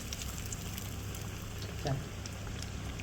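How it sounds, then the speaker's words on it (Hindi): Aloo tikki, spiced potato patties, frying in a pan, a steady soft sizzle and crackle throughout with one brief louder spatter near the middle. "जस्ट 2 मिनट के लिए आपने एक साइड से इसको फ्राई करना है।"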